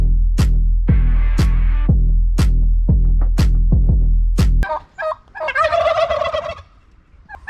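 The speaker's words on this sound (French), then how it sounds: "on est dans la nature, on voit des dindons" Wild turkeys gobbling outdoors in nature along a mountain bike trail, a rapid series of loud, close, descending gobble calls, followed by softer warbling clucks.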